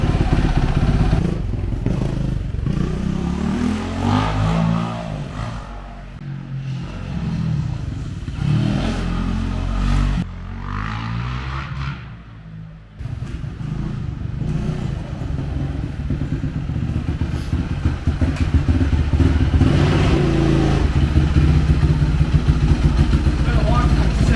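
Motorcycle engine running steadily while being ridden around the block to check an overheating radiator, a loud continuous drone with some clatter and rising revs, with people talking over it.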